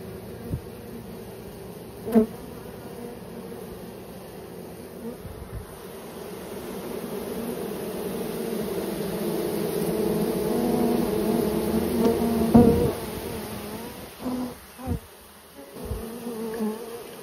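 Honeybee swarm buzzing around a beehive, with bees calling at the entrance and feeding hole: dense, continuous close-up droning hum that swells a little midway, with occasional soft knocks and handling noises, no talk.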